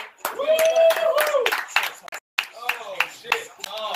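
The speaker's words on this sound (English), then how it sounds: "We got the American Thai team here. Let's give them a clap, yo." Scattered hand claps from a small group greeting an American Muay Thai team, sharp irregular claps mixed with cheering voices and talk nearby.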